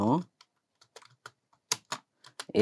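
Computer keyboard keys tapped while entering text in MS Word, a series of short, sharp clicks in irregular clusters, close and fairly quiet, with brief pauses between bursts.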